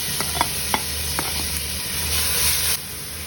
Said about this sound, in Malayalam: ഈ ഓയിൽ ചൂടാകുമ്പോൾ നമുക്കിതിലേക്ക് നമ്മൾ ചതച്ച് വെച്ചിരിക്കുന്ന ഇഞ്ചി, വെളുത്തുള്ളി, പച്ചമുളകില്ലേ, അത് നമുക്കിതിലേക്ക് ചേർത്ത് കൊടുക്കാം